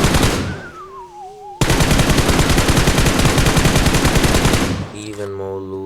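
Rapid automatic gunfire from the PUBG Mobile video game, a loud, steady stream of shots lasting several seconds with an even, fast rhythm, framed by electronic game tones before and after.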